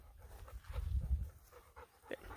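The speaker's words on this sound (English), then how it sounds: "The dogs are gonna come up." Dogs come up to a barn, panting and snuffling close to the microphone in quick soft bursts with faint rustling, no voices.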